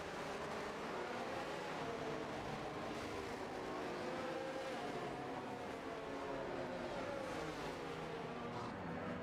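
Race cars in a racing video game weave on track to warm their tires at Miami, a steady overlapping engine drone with rising and falling revs, continuous and fairly loud with no talk.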